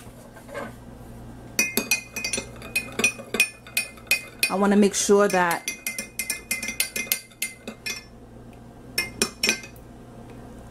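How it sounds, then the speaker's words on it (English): Hair oils, thick castor oil among them, stirred together in a container: rapid clinking taps of a utensil against glass in irregular bursts, close and bright, with a short stretch of talk in the middle. "So now I'm gonna mix my oils together."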